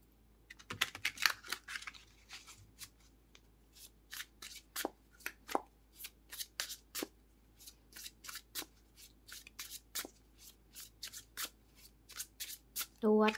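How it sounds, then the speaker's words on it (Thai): Tarot cards are shuffled and laid out on a table, giving a quick riffle near the start followed by a long run of crisp, separate card slaps and taps at an uneven pace, close and fairly quiet. "เปิดไพ่ทาโร่กันเลยนะคะ"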